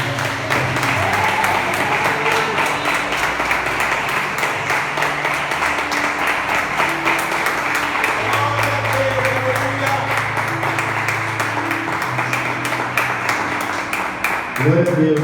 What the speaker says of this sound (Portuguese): Aplauda mais forte, queridos. Aplauda o Senhor.